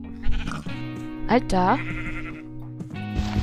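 Minecraft sheep give a couple of short wavering bleats under a player talking in German, with the game's background audio running throughout.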